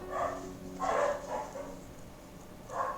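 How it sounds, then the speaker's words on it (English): Dogs bark in bursts in Dwarf Fortress, several short, muffled barks and yaps spaced over a few seconds, faint and somewhat distant behind a low background hum. "The dogs have been really going at it today."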